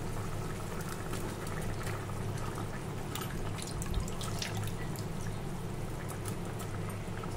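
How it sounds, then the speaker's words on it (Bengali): Curry broth coming to a boil in a pot, a soft, steady bubbling and simmering with faint popping, quiet and continuous without talk. "এদিকে দেখো আমার তরকারিটার ফুটে উঠছে, ঝোলটা ফুটে উঠছে।"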